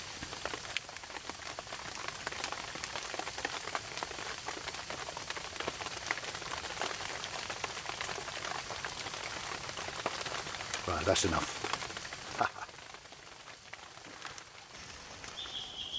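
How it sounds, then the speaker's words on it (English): Steady rain patters on surfaces throughout, a dense hiss of drops, with a brief louder burst near the end and a short spoken remark. "So I just thought I'd let you listen to the rain for a bit."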